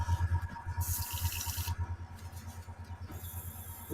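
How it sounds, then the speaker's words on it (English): An airbrush is emptied and back flushed with a cleaning solution, giving soft repeated sputtering pulses and brief bursts of hissing air, close and fairly quiet, with no talking. "Let me do a little back flush."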